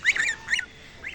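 Three loud, nasal goose honks close by, the first two long and strident, the last shorter and softer, with quiet gaps between.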